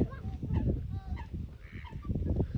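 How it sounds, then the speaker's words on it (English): Geese with their young honk in a noisy cluster of overlapping calls, fairly close, against a low outdoor background. "The geese are here with the young."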